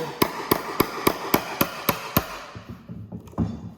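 Mallet blows on a chisel cutting out wood for a half lap joint in a beam: eight sharp evenly spaced strikes, close and crisp, then a few softer taps.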